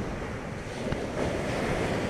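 Ocean surf washing steadily onto a beach, a broad continuous wash with wind buffeting the microphone, rising slightly in loudness toward the end, no voices.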